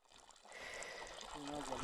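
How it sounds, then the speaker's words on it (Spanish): Clear spring water flows out of a mountain spring near the Capuli megalith site in Peru, a soft steady trickle and gurgle that grows slightly louder toward the end, heard close by and fairly faint. "así es como sale el agua del manantial"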